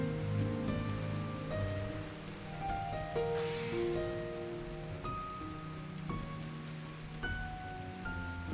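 Steady rain falls throughout the fantasy world of Final Fantasy XIV: Endwalker as an even, hissing wash, layered under sustained game music tones with no voices.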